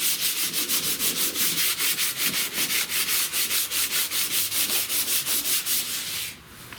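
DA sander grinding heavy rust off a 70 Wildcat car hood, loud rasping strokes in a fast, even back-and-forth rhythm, ending as the sander winds down.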